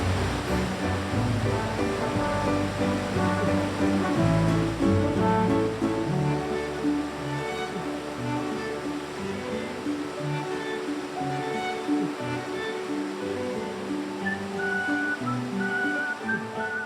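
Waterfall in Iceland roaring steadily as a loud, continuous broadband rush of falling water, dense and unbroken throughout with no talking.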